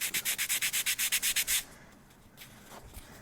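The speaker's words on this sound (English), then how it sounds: "So I actually like to take it and kind of sand it against itself." Sanding pad rubbed against itself to knock down its grit gives a quick series of about a dozen rhythmic scratchy strokes, close and crisp, before stopping into quiet handling noise.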